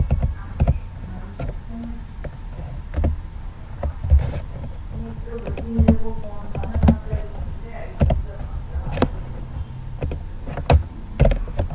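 Rapid clicking of a computer keyboard as HTML code is typed, with irregular bursts of keystrokes and occasional heavier key presses, close and steady with faint background noise.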